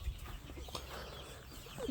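Homestead guinea fowl give soft clucking calls amid outdoor background noise, faint and scattered, with no talking.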